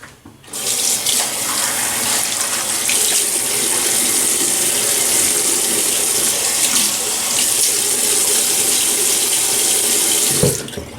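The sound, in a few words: running water wetting the face before a shave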